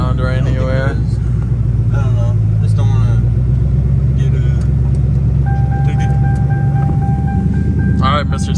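A loud car engine rumbles steadily while cruising, a constant low drone heard from inside the vehicle with people talking over it.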